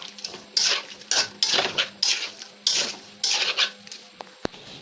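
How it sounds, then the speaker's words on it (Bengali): Chalta (elephant apple) pickle stirred in a pan with beet salt and roasted dry chili powder: a spoon scrapes and clinks against the metal in about seven rhythmic, fairly loud strokes, with brief pauses between them. "ভালো করে নেড়ে নেব।"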